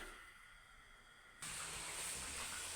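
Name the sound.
chebureki frying in a pan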